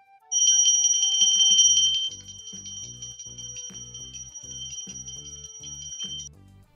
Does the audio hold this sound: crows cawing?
no